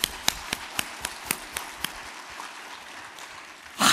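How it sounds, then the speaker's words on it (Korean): Sharp, evenly spaced hand claps ring out in a church, about eight distinct claps over two seconds that fade into quiet room tone before a loud burst of sound at the end. "우리 한번 박수를 쳐봅시다."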